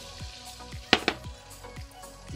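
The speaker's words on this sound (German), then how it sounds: "Dazu gebe ich nun die Schalotten." Shallots dropped into hot butter in a pot, sizzling softly with a couple of sharp crackles and spits over a steady low frying hiss.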